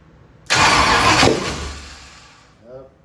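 The Ford FE 390 V8 engine in a 1965 Ford Thunderbird, with its timing off, bursts into a loud, sudden rev after a quiet moment, then winds down over about two seconds before a brief softer murmur.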